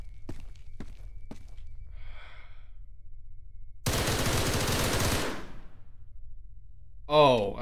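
Gunfire in SCP: Nine-Tailed Fox: a few sharp single shots, then a dense two-second burst of rapid automatic fire up close, followed by a voice near the end.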